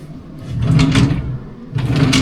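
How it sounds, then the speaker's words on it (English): A hotel room desk drawer at a spa hotel in Lloret de Mar slides open and then shut, two loud, close wooden scraping strokes separated by a brief pause. "Some drawer space."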